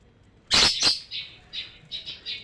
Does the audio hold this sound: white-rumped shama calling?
yes